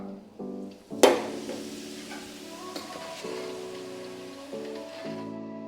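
Cut papadam pieces drop into hot oil with a sharp burst of sizzling, then a steady crackling fry carries on close by. A few soft tonal clinks are heard over it.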